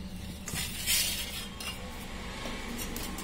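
A spoon scrapes and clinks around a bowl while mixing batter with baking powder for shakkar pare, a steady soft stirring with a few brighter clinks near the middle.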